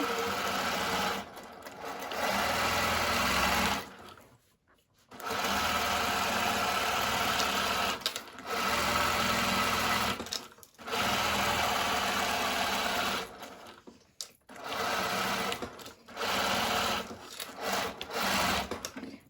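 A sewing machine zigzag stitches a cord table runner on a narrow, tight setting, running in steady bursts of rapid mechanical whirring with brief pauses between runs.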